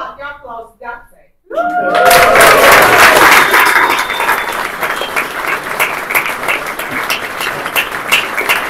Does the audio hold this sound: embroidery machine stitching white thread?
no